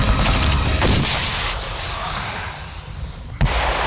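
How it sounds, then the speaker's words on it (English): A tank and a grenade launcher fire in battle, heavy booming blasts at the start and a sharp report near the end over a continuous rumbling roar of gunfire. "when the tank and the grenade launcher open up alongside you"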